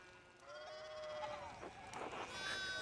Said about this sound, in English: Oh, there are so many sheep.